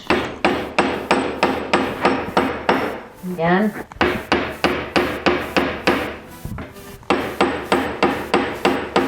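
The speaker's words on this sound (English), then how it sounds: "Notice that I'm not just hammering all in one spot." Rapid, steady hammer blows ringing on silver on an anvil close up, striking in quick regular bursts with a brief pause and a short spoken word midway.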